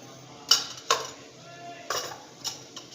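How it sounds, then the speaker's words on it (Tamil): Mustard seeds spluttering in hot oil in a pan while tempering for a Tamil lentil-ball curry, a few sharp scattered pops and crackles over a quiet background. "கடுகு பொரியட்டும்."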